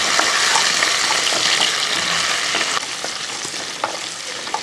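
Ginger and green chillies frying in a pan, stirred steadily, with a loud continuous sizzle and soft scraping throughout, close up and without talk.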